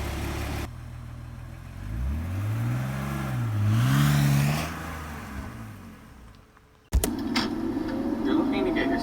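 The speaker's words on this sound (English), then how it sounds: "Check out this sick burnout." A 2001 BMW 330i E46 sedan engine revs up and sweeps through rising and falling pitch during a burnout, loud and close, then cuts abruptly to a harsher, noisier stretch of engine and tire sound.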